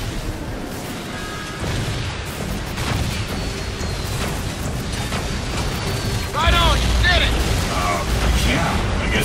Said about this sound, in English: Detecting airburst detonations.